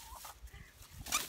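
Hens cluck softly nearby while being fed kale and watermelon rind, a few short quiet clucks with a sharper squawk near the end.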